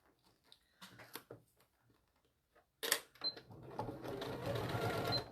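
A sewing machine stitches a seam on a small fabric mini bag, starting after a few faint taps and then running steadily and close for the last couple of seconds, with no talking.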